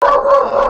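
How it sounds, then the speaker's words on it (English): A single short, loud dog bark or yip sounds close by, with no talking over it. "We almost got through the podcast without her barking."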